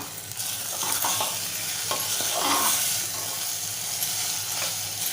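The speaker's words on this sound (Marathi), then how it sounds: "आता झाकण उघडूया फिरवून घेऊया एकदा" Malvani-style mutton curry stirred in a pan right after the lid comes off: a steady, close sizzle with repeated scraping strokes of the spoon, no voices.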